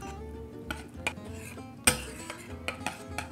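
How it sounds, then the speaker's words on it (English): Creamy horseradish sauce stirred with salt and pepper in a bowl, a spoon tapping and clinking against the sides in irregular light knocks, with one sharper clink partway through, close and fairly quiet. "Just kind of mix everything together and then taste it to make sure that it tastes the way that you want."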